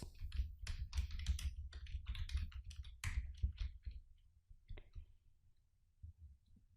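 Rapid, irregular clicking of fingers typing on a computer keyboard, close and fairly loud, busiest in the first four seconds before thinning to scattered keystrokes.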